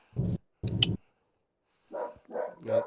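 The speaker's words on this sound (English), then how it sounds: "sorry if you guys can hear the dog barking" A dog barking indoors, two short, deep woofs followed after a pause by three quieter, higher yipping barks, with no talk over them.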